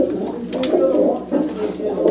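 Pet pigeons, a paired cock and hen of a fancy breed kept by a pigeon fancier, give a continuous low, throaty cooing at close range, rising and falling in soft rolling waves.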